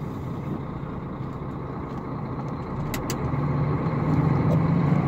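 A Kamaz truck pulls away with a steady engine rumble that builds gradually as it drives off, close and continuous with a few faint clicks overhead.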